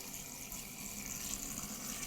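Water poured into a large glass jar for making nasturtium vinegar, a steady soft hissing splash that continues unbroken throughout and sits faint and close.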